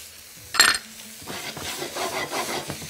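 Garlic goes into hot ghee in a pan for kabsa: a brief clatter of utensil against pan, then a moderate, crackling sizzle that continues steadily.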